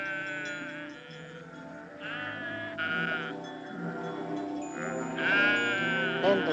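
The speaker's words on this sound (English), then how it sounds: "and the sheep cried again" Sheep in a Navajo flock, cold and short of water, bleat in several wavering, plaintive cries, with two louder bursts near the start and again toward the end over steady sustained tones.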